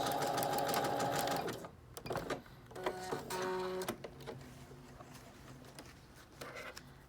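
A sewing machine runs a long steady stitch along the curve of a fabric medical mask, then stops and starts in short bursts for back stitching, loud and close in a quiet room.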